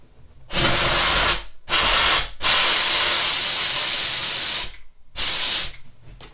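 Karcher SC4 steam cleaner with a fault of too much steam, blasting loud hissing bursts of steam close by, four sprays of varying length separated by short pauses.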